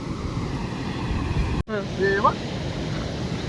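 Flood water rushing through a dam on the Sina River in Maharashtra roars steadily with a wind-like hiss, broken by a short dropout; a brief voice-like tone rises over it.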